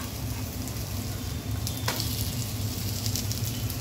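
Flipped cabbage pancakes fry in a pan with a constant close hiss of sizzling oil over a low steady hum, with one faint clink midway.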